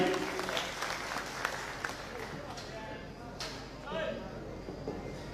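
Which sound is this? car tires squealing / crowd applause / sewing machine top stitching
crowd applause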